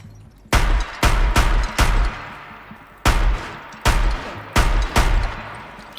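Machine gun fire in Horizon Zero Dawn, played on PC: eight loud, sharp bursts in quick succession, each a heavy crack with a short decaying tail and brief gaps between volleys.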